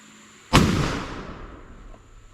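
A single black powder muzzleloader shot cracks out loud and close, followed by a long rumbling decay that fades over about two seconds.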